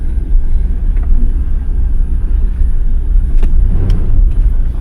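A Jeep engine runs steadily while the vehicle moves, giving a loud, continuous low rumble that stays even throughout, with no voices over it.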